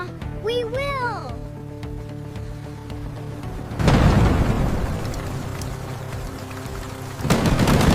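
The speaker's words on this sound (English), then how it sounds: "The storm is here." During a night storm over a farm, a deep rumble of thunder breaks in and rolls on with heavy rain, then a second crash follows moments later. A voice talks briefly before the first rumble arrives.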